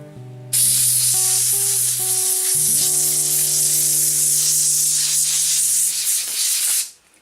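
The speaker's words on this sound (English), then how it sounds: "either using an air duster or anything that sprays air out, we're going to spray under all the keys" A loud, continuous hiss from an air duster sprays under laptop keyboard keys for several seconds then cuts off, with faint musical tones playing underneath.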